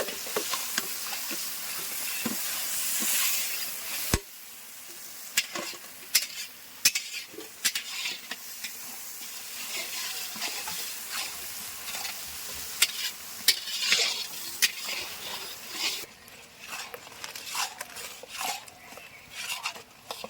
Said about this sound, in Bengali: এবার মশলাটা ভাজা হয়ে যাওয়া পর্যন্ত আমরা একটু ওয়েট করবো। মশলা থেকে তেল ছাড়তে শুরু করবে।